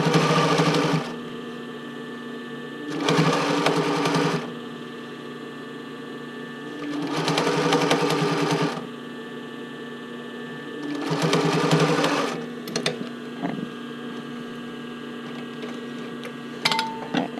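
A sewing machine stitches black thread as bra cups are joined into the band over elastic, running in four steady bursts of about a second and a half each, separated by short pauses, close and clear.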